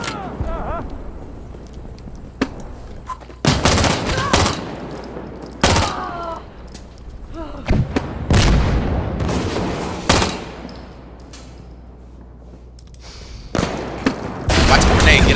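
Gunfire in the Insurgency Sandstorm video game: loud bursts and single shots come in irregular clusters, some close and sharp, others further off, with players talking over the quieter stretches.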